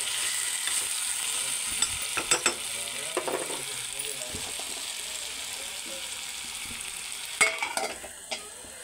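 Potatoes fry gently in a pan with salt added, a soft steady sizzle running throughout under a few scattered scraping stirs and light clinks of a spoon against the pan.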